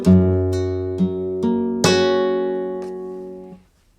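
A short flamenco guitar melodic phrase in Soleá: a handful of plucked notes rising into a ringing chord that sustains and fades, clear and close, played alone.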